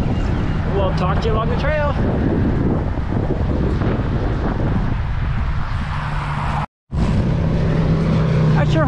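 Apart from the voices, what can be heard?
strong wind blowing while cycling on a trail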